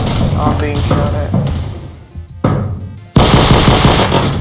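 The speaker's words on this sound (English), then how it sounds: "I'm being shot at." Rapid gunfire in a Roblox multiplayer shooter, with bursts of automatic weapon fire crackling loudly amid game sounds and talk, pausing briefly before a sharp, dense volley near the end.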